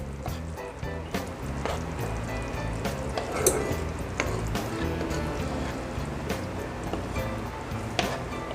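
Smoked pork tenderloin sears in butter with fresh parsley in a skillet, giving a steady, close sizzle with small pops and crackles and no talking.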